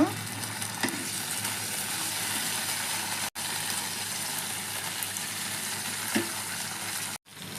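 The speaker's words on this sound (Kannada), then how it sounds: "ತವಾಕ್ಕೆ ಒಂಚೂರು ಬೆಣ್ಣೆ ಹಾಕೊಳ್ಳೋಣ ಸ್ವಲ್ಪ ಬಾಜಿ ಹಾಕೊಳ್ಳೋಣ" Pav bhaji and bread fry in butter on a hot tawa, giving a loud, continuous sizzle with occasional stirring scrapes and two abrupt brief cuts.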